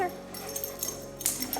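A service dog named Wally whimpers in short, high, soft whines. The sounds come close and fairly quiet over a background hum, and the last part grows slightly louder.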